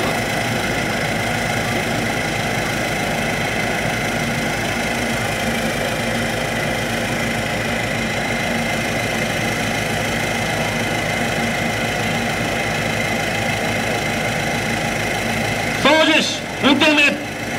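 Engine of a Type 16 maneuver combat vehicle at a military anniversary display, a steady idling drone with a knocking vibration held throughout as the turret traverses, and a brief burst of louder activity near the end.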